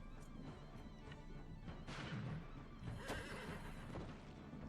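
A horse neighs amid combat in the Wartales video game, with smashing blows and hoof clatter mixed in, brief whinnies over a low battle din.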